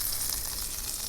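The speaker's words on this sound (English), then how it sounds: "I'm gonna put a little butter in the pan here." Butter sizzling in a frying pan, a steady soft hiss and crackle heard close, with no talk over it.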